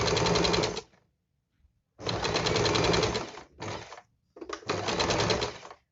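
Electric sewing machine stitching a folded half-inch strip on palazzo pants: a loud, close, steady mechanical whir in several bursts, a long run, a pause, then shorter runs with brief stops between.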